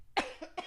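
A person coughs indoors, a quick burst of about three close coughs in under a second.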